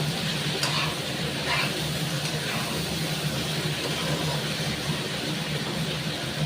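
Vegetables fry in a pan and are stirred, a dense, steady sizzle with occasional scraping, close and fairly loud throughout.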